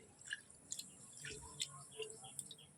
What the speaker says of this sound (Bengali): চালটা এখন জল দিয়ে ধুয়ে ভিজিয়ে রাখবো।